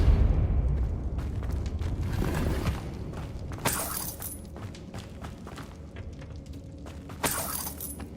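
Depulso spell effects in the Hogwarts Legacy video game, a burst of shattering, crashing force over a low rumbling game background, with two sharp bright bursts a few seconds apart.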